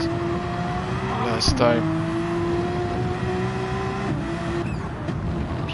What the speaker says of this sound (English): Let's try to listen to that lovely turbo sound